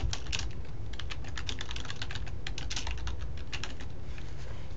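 Rapid clicking keystrokes on a computer keyboard, an even, busy patter of close taps running steadily throughout with no voices.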